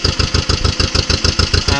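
Tractor engine idling with clutch and brake engaged, a steady rapid chugging pulse, close and loud, with no talk over it.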